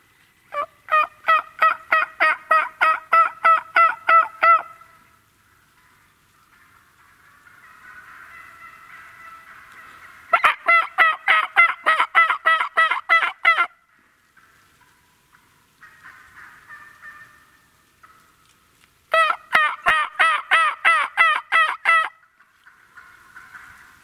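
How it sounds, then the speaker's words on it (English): Wild turkeys calling from a wooded bottom during a late-season hunt, with three bursts of rapid, rhythmic yelping and gobbling separated by quieter, raspier calls, clear and fairly close. "Got turkeys yelping in the bottom."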